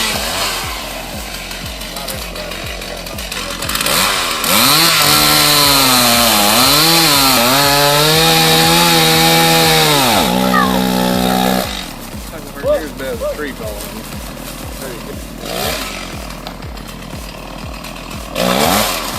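A chainsaw cuts into tree wood, its engine revving loud and close in a rising, wavering whine for several seconds before dropping back, with a voice talking over the quieter moments around it.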